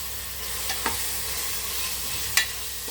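Four medium sliced onions fry in oil in a pot for biryani over medium flame, a steady close sizzle broken by a few sharp stirring clinks, with no talking.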